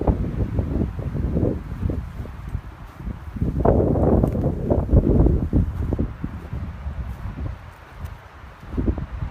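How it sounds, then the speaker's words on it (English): Gusty wind blows outdoors in elk country, buffeting the microphone in uneven surges with rustling between gusts, loudest in the middle, with no talk. "Pretty windy today."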